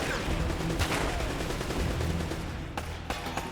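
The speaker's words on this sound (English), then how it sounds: "Did you see how he was shooting the Makarov?" Makarov pistol fire in Uncharted, rapid overlapping shots in a busy firefight, steady and close, with a few sharper cracks near the end.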